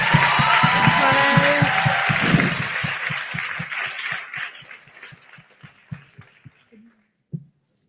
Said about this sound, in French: je pense qu'ils méritent tous une bonne main d'applaudissements.